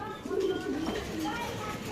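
White racer pigeons coo in a loft cage, low warbling calls rising and falling close by, with a voice talking faintly underneath.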